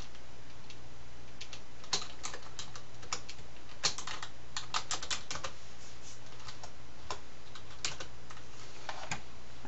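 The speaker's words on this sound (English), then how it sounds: "I type in the first name and last name, and then I say OK." Typing on a computer keyboard while entering a first and last name into charting software, a steady run of light, close key clicks with a few sharper taps, alone over faint low hum.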